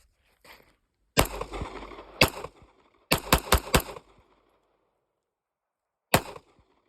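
A Sig pistol fires hollow point rounds outdoors: a single shot, a couple of spaced shots, then a quick string of four, and a final lone shot, each sharp and loud with a short echo tail.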